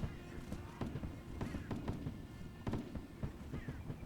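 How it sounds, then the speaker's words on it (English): Scattered musket fire rings out across a Napoleonic-era battlefield in Mount & Blade Warband, irregular distant pops and cracks over a low rumbling din of marching and movement, with someone talking underneath. "Can hear the gunfire, but they're not taking out that many people yet."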